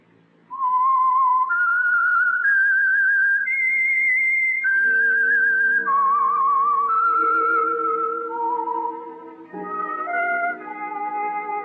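A clear melodic whistled theme, the signal tune of The Whistler radio program, a solo whistle gliding through sustained notes with orchestral accompaniment entering midway, no speech.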